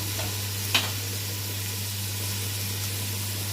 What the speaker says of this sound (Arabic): هنكون مجهزين هنا بصلاية هنحطها تتشوح